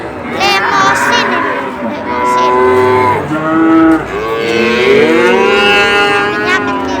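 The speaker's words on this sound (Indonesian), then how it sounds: "Ini juga ada sapi jantan, cukup lulut." Cattle at a busy cattle market moo loudly in several long, overlapping calls close by, with crowd and people talking faintly behind them.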